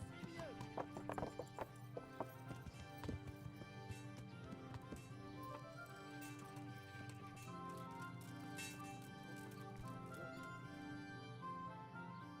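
Horse hooves clip-clop and a horse neighs in a video game, the hooves quick and rhythmic at first, then settling under a continuous game soundtrack, with someone talking over it.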